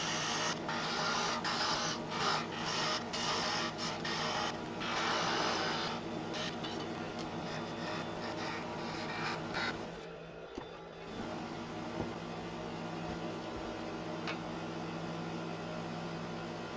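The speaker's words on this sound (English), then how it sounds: "I swapped to the 3/8 spindle gouge" A 3/8 spindle gouge cutting spinning wood on a lathe, a steady rasping, whirring shave with rhythmic pulses, then quieter motor hum after the cut stops.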